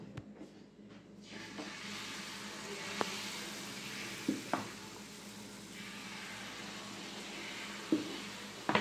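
Jalebi spirals frying in hot oil, giving a broad, continuous hiss that holds steady with a few brief clicks and taps from utensils, at moderate level and without speech.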